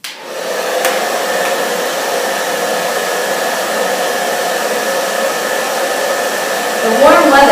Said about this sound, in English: So, this hairdryer represents the warm weather, another weather pattern that we can predict.